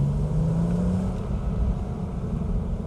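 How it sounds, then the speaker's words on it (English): A 2011 Porsche Boxster S with PDK gearbox drones steadily from inside the cabin, a close, low engine note with a brief rising pitch that fades as the car pulls. "the PDK gearbox combined with this engine just makes it feel that much more like highly strung and highly tuned"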